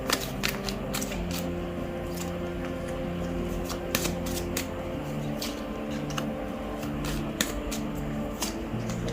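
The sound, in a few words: tarot cards being shuffled and aligned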